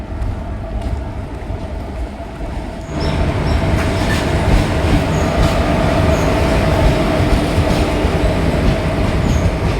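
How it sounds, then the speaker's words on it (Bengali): A Hazarduari Express train slowing as it arrives at Lalgola railway station, Murshidabad: a steady, loud rumble of rolling wagons that swells after a few seconds, with faint wheel squeals and rhythmic clacking over the rails, no voices. "তো লালগোলা স্টেশনে এখন একটা ট্রেন আসছে।"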